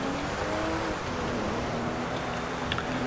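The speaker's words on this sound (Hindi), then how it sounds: "ये कार में इतना पावर है ना, मज़ा आ जाता है चलाने में" A car drives in the video game GTA 5, a continuous loud engine drone with a steady hum and no breaks, heard alone without talk.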